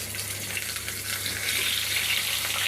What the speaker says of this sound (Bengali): তেল গরম হয়ে গেছে, এবার আলুটা আমি দিয়ে দেবো।